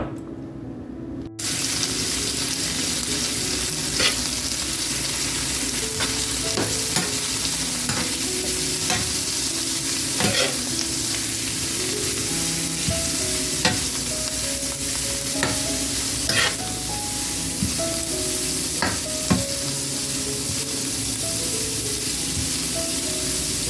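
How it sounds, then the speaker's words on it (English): Garlic and vegetables sauté in olive and coconut oil with a loud, steady sizzle, punctuated by regular clicks and scrapes of stirring throughout, heard alone without voices. "Now we're going to add some garlic and the rest of our vegetable to saute"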